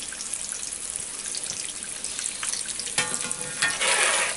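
Breakfast frying in a cast iron skillet sizzles steadily and close, with brighter spitting bursts near the end and no talking.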